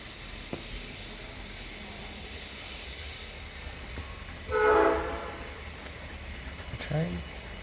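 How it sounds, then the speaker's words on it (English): A train passes through a New Zealand landscape as a steady distant rumble, with a louder horn-like blast about two thirds of the way through. "It's the train."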